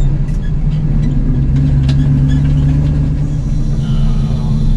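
A Chevy grain truck hauling corn drives along with a steady, loud mid-pitched engine drone and road rumble. The sound is close and continuous, with no voices.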